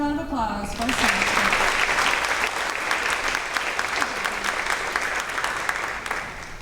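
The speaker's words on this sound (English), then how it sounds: "one more round of applause for science" An audience claps through a fifth-grade school promotion ceremony, the dense applause continuing steadily for several seconds, and a voice speaks briefly at the start over the clapping.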